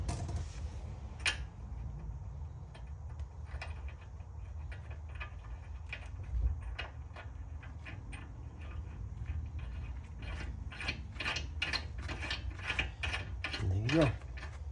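Metal screw threaded into a repaired stripped stud hole on a BMW wheel hub, giving steady mechanical ratcheting clicks and small metallic ticks, close and moderately loud, with busier clicking toward the end.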